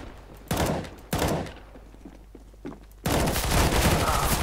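Gunfire in CS:GO, with two sharp bursts early, a quieter patter of scattered shots in between, then a sustained loud volley of rapid fire close by.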